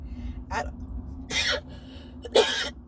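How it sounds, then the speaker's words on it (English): A person coughs several times in short, harsh bursts, close by, with brief pauses between them. "I had a tickle in my throat. I was coughing seriously."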